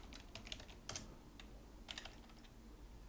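Typing on a computer keyboard during accounting software data entry, soft scattered key clicks at close range in a quiet room, several taps in quick clusters with brief pauses.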